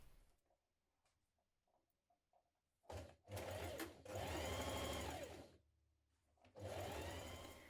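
A sewing machine stitches a blouse yoke seam, starting with a few soft clicks and then running in loud, close bursts of rapid mechanical whirring, pausing briefly between runs.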